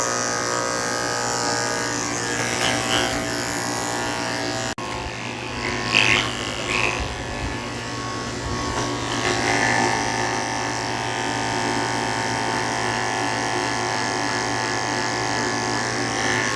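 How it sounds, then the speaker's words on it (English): Electric clippers with a thin blade shaving under a Goldendoodle's tail during a grooming session, a steady close buzz with faint handling noise throughout. "Using a thin blade just to shave under his tail and his potty area."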